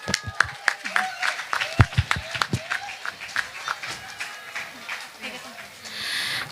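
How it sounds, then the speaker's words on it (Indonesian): Scattered, uneven clapping from a small outdoor gathering at a police and election-commission event with tree planting, sharp separate claps dying away into murmur and voices. "Berikan tepuk tangan yang meriah terlebih dahulu."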